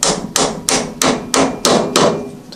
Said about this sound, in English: And we'll hammer them in